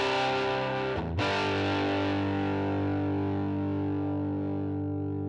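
Distorted electric guitar played through a Line 6 Helix amp modeler with a small 1x8 Tweed cab and ribbon mic: one sustained chord rings, briefly breaks, then is struck again and rings out slowly, loud and alone.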